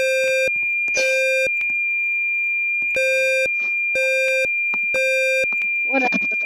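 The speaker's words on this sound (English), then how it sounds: "Because the alarm is still off, but I can't even reset it." A fire alarm control panel beeps in regular electronic tones, several evenly spaced loud pulses with short gaps, separated by clicks and button presses, ending in a brief burst of clatter.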